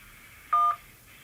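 A single telephone keypad DTMF tone sounds from one key press on an automated call-in line, a short, clean, steady beep lasting about a quarter second against quiet line hiss.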